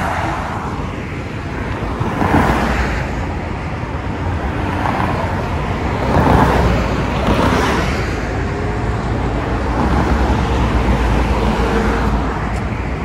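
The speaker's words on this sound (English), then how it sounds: "See, vehicles are coming" Road traffic on a Doha street in Qatar, with vehicles approaching and passing in slow swells of engine and tyre roar, fairly loud and steady, with no talking.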